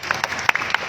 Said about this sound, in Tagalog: Palakpak na malakas kayo.